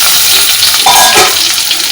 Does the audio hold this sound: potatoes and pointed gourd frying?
yes